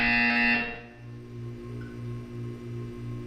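A low, droning buzzer in the video game Portal 2 sounds in a series of short repeated pulses, steady and mechanical, after a brief higher tone at the start.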